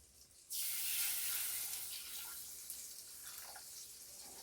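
Water pouring steadily from a tap or jug into a pan for gravy made with powdered milk, a sudden rushing stream that starts abruptly and continues close up, then slowly eases.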